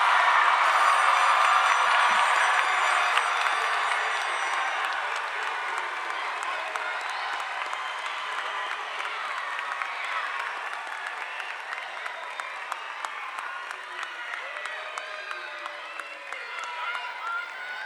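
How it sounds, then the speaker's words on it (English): A large crowd at a high school graduation ceremony applauds steadily for the graduates, a dense sustained wash of clapping that gradually thins and softens over its length, with a faint tone heard early on. "Let's give our graduates a huge round of applause"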